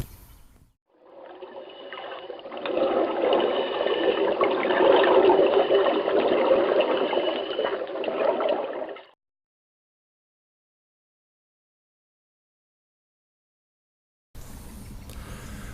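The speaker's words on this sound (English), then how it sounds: "We're down at my local river" River water rushes and trickles steadily at a local river on an autumn morning, swelling for several seconds before cutting off into silence, then returning faintly at the end.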